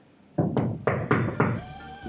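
Five loud, close knocks on a hard surface in an uneven rhythm, each a dull thunk with a short ring after it, coming out of near silence.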